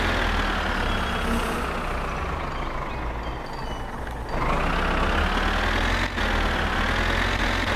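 A car engine in My Summer Car pulling away, a loud, steady droning rumble with a brief dip and then a rising pitch as it accelerates.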